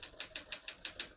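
A 1952 Smith-Corona Silent portable typewriter types in a steady run of about six evenly spaced, crisp key strikes, close by and fairly quiet, with no voices.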